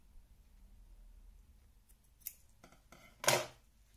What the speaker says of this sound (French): je coupe à ras le surplus